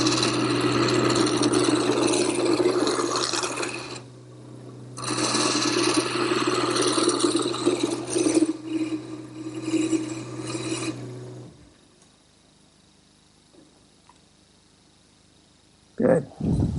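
A wood lathe turns a straight section of a rocking chair rung, giving a steady motor hum with rasping cutting bursts that stop briefly around four seconds, then the machine winds down into near silence before a short knock.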